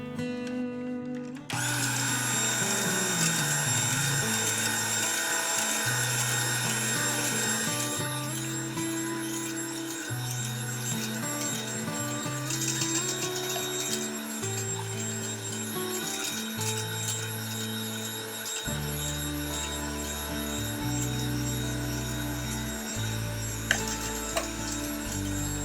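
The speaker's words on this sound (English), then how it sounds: "add the vanilla extract and the sweetener. And continue whisking." An electric mixer whirs steadily while whisking vanilla and sweetener into meringue for a low-carb banana pudding, a continuous motor drone that shifts in pitch as the beaters move through the bowl.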